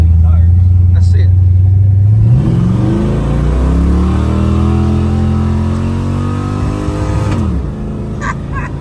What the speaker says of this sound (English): It's just gonna spin the tires.